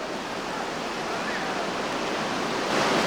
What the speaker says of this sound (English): Right over the top of the Colgate wave, getting a big splashy ride